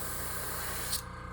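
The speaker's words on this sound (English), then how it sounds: "So I might give it another spray here." Aerosol paint spraying onto a PFK 1.5 square bill fishing lure, a steady close hiss that cuts off abruptly near the end, leaving quiet room tone.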